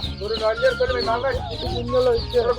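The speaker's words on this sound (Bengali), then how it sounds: "এবার দেশি মুরগির বাচ্চা, সোনালী বাচ্চা, টাইগার মুরগির বাচ্চা" Chickens and chicks of native, Sonali and tiger breeds cluck and cheep in a dense, continuous chorus at an animal seller's stall, loud and close.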